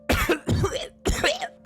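A man coughs in three harsh, rasping bursts close up, each fit separated by a brief pause.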